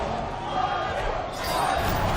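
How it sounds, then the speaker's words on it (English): A crowd at an Injustice 2 fighting game tournament grand final chants in a steady, loud roar that fills the hall without a break. "The crowd's chanting WhiteBoi"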